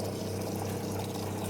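Drinking water pouring steadily into containers from a pump-fed filling tap in Thailand, a constant rushing flow with a low mechanical hum underneath, close and unbroken.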